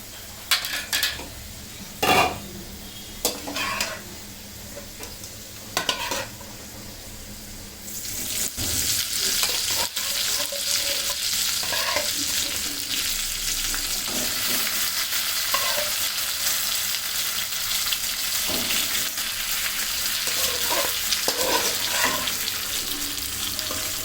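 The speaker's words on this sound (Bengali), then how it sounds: "আমি কড়াইটার মধ্যে দিয়ে দেবো মাংসগুলো" Chicken pieces going into a hot wok for a dark spiced chicken curry: a few clanks and scrapes, then a loud steady sizzle as the meat fries and is stirred, close up.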